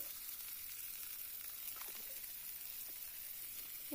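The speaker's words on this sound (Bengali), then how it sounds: "আলুগুলো এবার লাল লাল করে ভেজে নেব" Potatoes salted and dusted with turmeric frying in a pan, a faint, steady crackling sizzle with a few soft stirring sounds.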